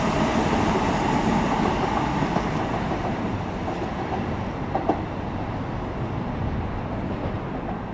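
A Class 357 electric train passes at Barking station on the LT&SR line, a loud, continuous broadband rumble and rail roar with faint clicks, sustained close by throughout without talk.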